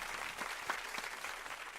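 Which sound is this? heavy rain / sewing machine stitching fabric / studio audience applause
studio audience applause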